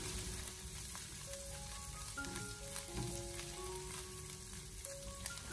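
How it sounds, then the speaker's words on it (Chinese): Minced meat stir-frying in a wok with a little oil over low heat, a quiet, even sizzle running throughout with faint scrapes of stirring, no voices. "接着再把切好的肉末放进锅里面，开小火给它翻炒一下"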